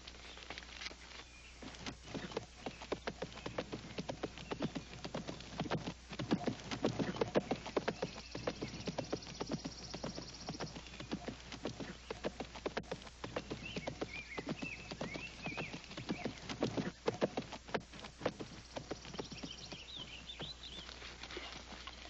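A ridden horse's hooves patter in a quick, irregular clip-clop on the ground, moderately close, with no talk over it.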